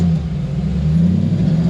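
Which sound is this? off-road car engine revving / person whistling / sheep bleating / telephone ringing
off-road car engine revving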